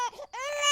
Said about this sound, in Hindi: बस बच्चे की पहली रोने की आवाज गूंजी।